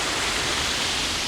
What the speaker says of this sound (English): Nothing like the sound of running water when there's not a toilet in sight.